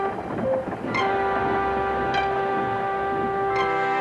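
Gordon the steam engine rolls along the rails with a steady mechanical rumble, sustained whistle-like tones and periodic sharp bursts, fairly close and with no one talking.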